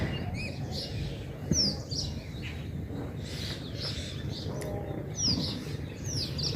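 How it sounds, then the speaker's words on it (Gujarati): Several birds chirp and tweet in short morning bursts over a steady outdoor rumble, calls overlapping from different directions. "મોર્નિંગ એટલે બંને લોકમાં કલવર કલવર ચાલુ છે પક્ષીઓનું"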